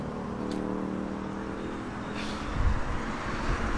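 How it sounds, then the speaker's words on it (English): Road traffic rumbles steadily from nearby, a continuous broadband roar with a heavier vehicle swelling past midway, heard from a pedestrian's position beside a busy street. "The traffic sounds are really making me yell."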